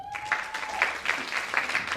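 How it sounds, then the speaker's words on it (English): Brief, fairly faint audience applause at a talk, scattered claps building into a light patter with a few louder hand claps over a soft room hum. "Round of applause."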